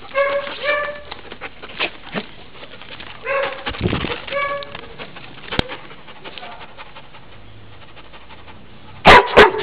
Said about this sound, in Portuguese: Olha o latido dele.